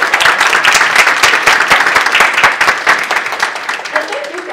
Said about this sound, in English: So please, let's give our presenters a round of applause.